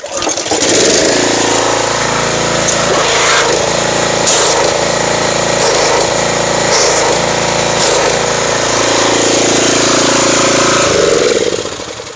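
A loud engine-driven pressure washer drones continuously and close by while spraying Tide Heavy Duty foam onto a car, a steady mechanical roar with slight fluctuations, cutting off at the end.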